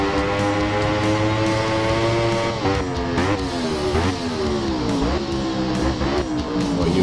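A racing motorcycle in the game RIDE, its engine wailing in steady high revs with rising and falling pitch sweeps as the tires scrub and wear through corners, loud and continuous.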